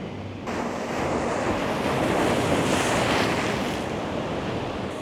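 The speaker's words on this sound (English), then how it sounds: "Might look cool with the waves crashing." Ocean waves crash and wash onto the shore at sunrise in a continuous loud, hissing surge, mixed with rushing wind buffeting the microphone.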